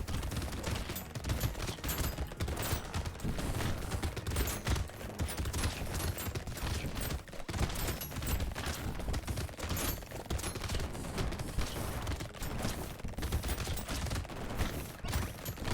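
Dense nonstop gunfire from the Brotato video game, piercing shots and rocket launcher blasts overlapping in a busy, constant rattle of rapid hits and explosions throughout.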